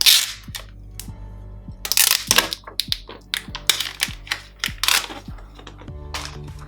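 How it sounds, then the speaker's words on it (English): Plastic wrapper is peeled and crinkled off a new Samsung Galaxy Fold phone, a close series of sharp crackles and snaps in irregular bursts, with quiet pauses between them. "Anyway, let's take this plastic wrapper off."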